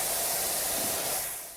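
Steady, dense hiss of a pressure washer spraying in the video game Powerwash Simulator 2, a continuous close jet that fades slightly at the end.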